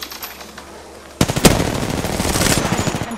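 Rapid automatic gunfire bursts out suddenly in an Apex Legends battle royale match, loud and close, with a sharp crack followed by a sustained rattling stream of shots.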